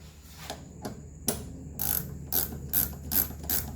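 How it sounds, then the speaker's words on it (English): A 17 mm ratcheting wrench clicks on a front shock of a 1983 Mercedes 300D, a few separate close ratchet strokes followed by a faster run of sharp pawl clicks, no talking. "this is a ratcheting 17 millimeter"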